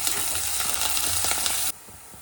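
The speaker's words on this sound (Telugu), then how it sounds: "తర్వాత పచ్చిమిర్చలు, ఉల్లిపాయలు, కరివేపాకు వేసుకుని బాగా కలుపుకోవాలి." Green chilies, onions and curry leaves hiss and sizzle in hot oil with tempering seeds as they are stirred, a loud, dense frying crackle that cuts off abruptly near the end.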